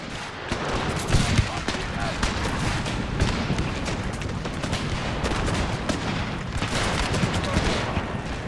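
Musket volley fire in a Total War battle set in the Thirty Years War, dense continuous crackling of many shots layered with booms, loud and sustained throughout.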